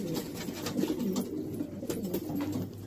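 Pigeons in a loft making soft, low, repeated coos that overlap, fairly close and quiet, with no talking.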